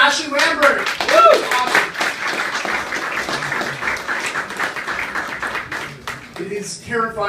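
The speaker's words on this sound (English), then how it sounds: "one more round of applause for Ashleigh Lambert" Applause and clapping from a comedy show audience break out for a stand-up performer, lively and fairly close, with cheering and voices mixed in throughout.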